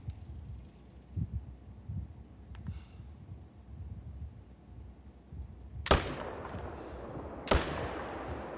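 Two sharp rifle shots ring out a second and a half apart in a deer hunting video game set in mule deer country, each with a loud crack and a fading tail over quiet low rumble.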